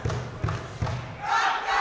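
Boxing crowd at a Swindon fight night roars in support of a home fighter, a steady dense cheer rising louder toward the end, with a few dull thumps of punches landing early on.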